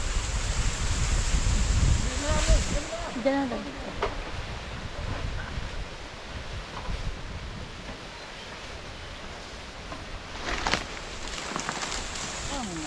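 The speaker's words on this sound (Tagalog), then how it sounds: "kung maririnig ninyo sobrang lakas po ng hangin" Strong wind blows outdoors where bamboo is being worked, a steady broadband roar with heavy low buffeting in the first few seconds, while people talk over it.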